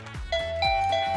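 A Doro doorbell chimes a repeated two-tone ding-dong, bright ringing notes sounding three times in quick succession, close and clear with a soft low hum beneath.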